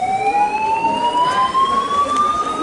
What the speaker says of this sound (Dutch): En ineens gaat het brandalarm hier al.